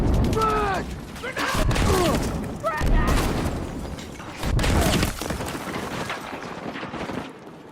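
Grenades go off repeatedly in a video game, with booming blasts and clattering mechanical effects layered densely together, while a voice talks over the noise throughout.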